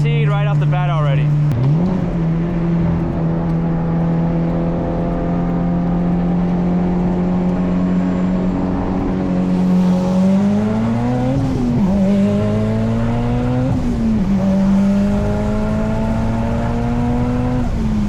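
A Mitsubishi Evo X accelerates hard just after refuelling, its engine drone climbing steadily in pitch, easing off with gear changes and then pulling again, loud and continuous throughout.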